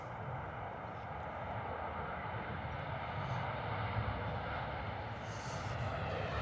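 A Ryanair airliner approaching to land at London Stansted Airport gives a steady, distant jet roar that holds evenly throughout, faint and broad with no voices over it.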